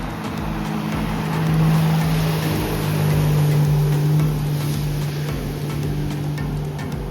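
Motorboat engines drone steadily on the water at a boating spot near Chennai, a low continuous hum with wind and outdoor noise, no voices.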